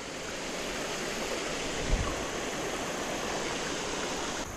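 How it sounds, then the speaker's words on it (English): Small waterfall in a creek, a steady close rush of falling water with even, unbroken hiss and a single soft thump midway, no voices. "And you find cool stuff like this, little waterfalls,"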